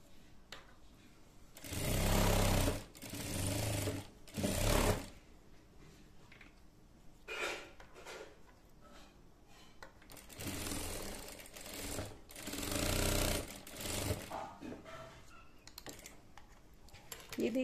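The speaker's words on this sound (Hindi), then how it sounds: "स्ट्रिप को सिल लेंगे।" A sewing machine stitching a strip of satin for a protective bonnet, running in several whirring bursts of a few seconds each with quiet pauses between them.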